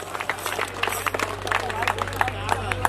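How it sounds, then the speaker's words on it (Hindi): Audience clapping at a village temple consecration festival in Rajasthan, a steady patter of many hands with sharp irregular claps, mid-distance, with a constant low hum beneath. "एक बार ताली बजाओ साहब, जोरदार ताली बजाओ।"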